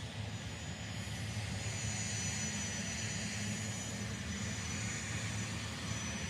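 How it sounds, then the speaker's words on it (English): A continuous, fairly loud engine roar from a Dassault Falcon 50 tri-jet, heard alone with no talk. It holds steady for several seconds without fading. "There's a Falcon 50 stealing our focus."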